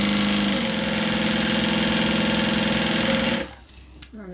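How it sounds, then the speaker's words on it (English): A sewing machine stitches fabric for a bag with a steady, close mechanical whir, then stops abruptly near the end, leaving a few quiet handling clicks. "Sew this together."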